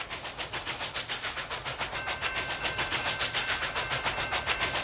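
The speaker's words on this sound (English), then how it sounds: "And here comes that train" A small Union Pacific Challenger model train clatters along its track with a steady, rapid clicking rhythm and a faint motor whine, growing slightly louder.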